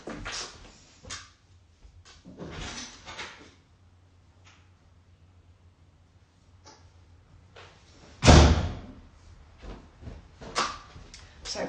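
A home front door is opened for a post delivery, with rustling, shuffling and light knocks building to a loud thump of the door, then more handling clatter, all close by and with no speech.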